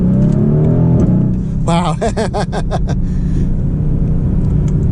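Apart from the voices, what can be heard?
Mercedes GLC 63 AMG accelerating in Sport Plus mode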